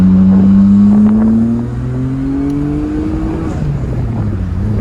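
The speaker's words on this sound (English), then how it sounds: "Now, a little acceleration." Car engine pulling steadily under acceleration on a road test drive, with rising tonal engine whine and constant road and wind noise, close and loud throughout, with no talking.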